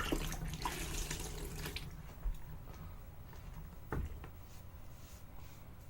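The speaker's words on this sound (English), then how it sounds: "Cold water rinse." Cold water runs steadily from a tap for a rinse during a shave, a close, continuous splash with a couple of brief louder gushes, with no talking.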